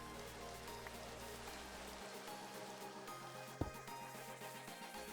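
Rain in the Minecraft video game, a dense, steady hiss of falling rain that fills the whole clip at an even level, with one brief thump partway through.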